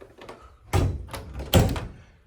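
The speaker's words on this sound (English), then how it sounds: "so I'm going to shut this door here." An interior door is swung shut, landing in two solid thuds about a second apart, near and fairly loud, with a faint rustle before them and no talking.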